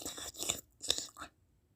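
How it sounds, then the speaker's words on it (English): A cat lapping loudly at close range, a few wet crunchy bursts with short gaps between them and no talking over it. "Hey, Lucifer, can you mind not slurping that so loud?"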